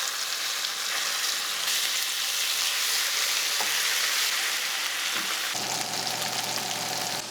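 Slices of saganaki cheese fry in a pan with a steady, close hissing sizzle that continues throughout without pause or voices.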